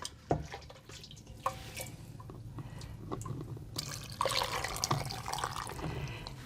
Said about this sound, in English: just using a ladle to pour in the broth